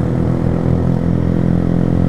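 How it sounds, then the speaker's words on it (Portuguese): A motorcycle engine runs loud and close, a steady, rough mid-pitched drone with no pauses and no voices. "no acelerador, ó. Dá uma bombada nele"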